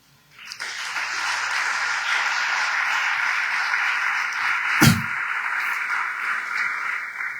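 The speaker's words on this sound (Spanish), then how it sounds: "Y a quien no le da un aplauso." A church congregation breaks into sustained applause during a sermon, a dense, even wash of clapping that holds steady for several seconds.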